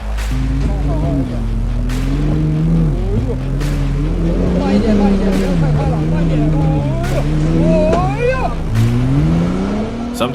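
A Mercedes-Benz G-Class engine hums and revs steadily while driving on a frozen lake, largely buried under a continuous voice talking over it.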